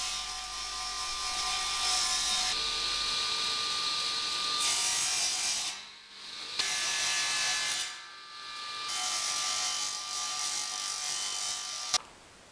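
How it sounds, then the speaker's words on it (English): A jigsaw buzzes steadily through wood, close and loud, with the rasping cut running several seconds, dropping out briefly twice and then resuming, ending with a sharp click. "so I start with the jigsaw"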